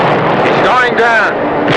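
Naval gunfire from a ship's guns during an attack on an approaching enemy vessel, a loud sustained roar of firing and blasts filling the whole stretch, with shouted voices and radio-like tones mixed in.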